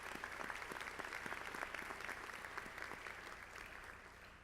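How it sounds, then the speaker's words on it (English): Graduation ceremony audience applause for honored faculty at a medical school awards event: continuous clapping from a large hall crowd, steady and distant-sounding, very quiet overall. "Can we please give all of them a big round of applause?"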